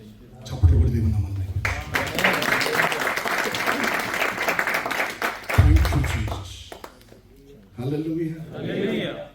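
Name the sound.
applause in church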